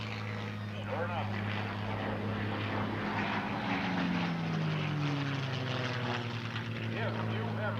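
Propeller warbirds flying at an airshow produce a continuous droning engine roar that swells and shifts in pitch as they pass, fairly distant, with a commentator talking over the sound.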